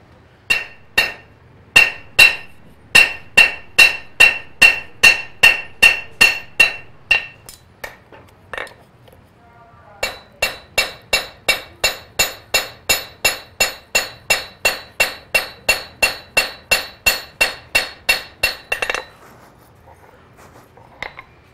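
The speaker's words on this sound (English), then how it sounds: "so as I'm hammering down on it, I can actually bring the corner of my hammer down and off" Blacksmith hammering a steel knife blade on an anvil while forging a roach belly knife: two long runs of steady, ringing metallic strikes, loud and close, with a brief pause between them.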